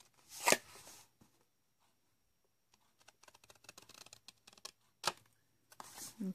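Paper is cut away to form an envelope flap: quiet, crisp cutting sounds come in short clustered bursts, with a few louder rustling handling noises in a mostly silent room.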